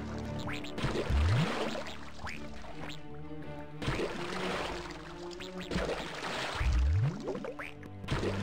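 Cartoonish duck quacks from the Pirates of the Caribbean DS game, a few separate quacks with sweeping squeaky tones over looping game music and splashy water effects.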